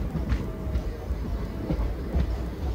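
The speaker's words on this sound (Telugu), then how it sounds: "మనం అన్నది ట్రైన్ యొక్క సెకండ్ స్టాప్ గద్వాల్ రైల్వే స్టేషన్కి రీచ్ అవుతున్నాము" Tungabhadra Express pulling into Gadwal station platform, a steady low rumble of a moving train with faint periodic rail clacks and a thin squeal, continuous and moderately close.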